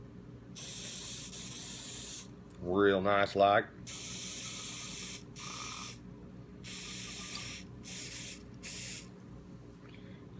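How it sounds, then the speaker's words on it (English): Repeated hissing bursts of aerosol cleaner sprayed onto disassembled 1911 pistol parts, each lasting about one to two seconds, close and fairly loud, with a short spoken remark between the first bursts. "Spray everything down."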